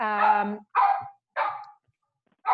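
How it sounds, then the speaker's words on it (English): A pet dog barks sharply in an indoor setting, four loud, close barks spaced by short silences, the first one longer and more tonal. "I'm completely embarrassed that my dog is barking her head off right now"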